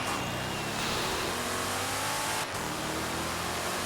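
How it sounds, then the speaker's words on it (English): A Mercedes car engine in Forza Horizon 3 roars steadily at high revs, droning continuously with a brief dip partway through as it shifts, then pulling hard again. "I love the engine sound of this Mercedes."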